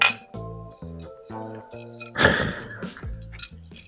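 Glasses chiming together in a toast over red rum sour cocktails, one bright clink standing out amid quieter glassy taps and faint tonal background sounds.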